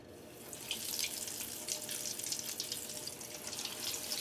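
Potato balls drop into hot oil and fry, giving a continuous bright sizzling hiss with crackling bursts that swell and ease throughout. It is fairly quiet and close, and no one speaks.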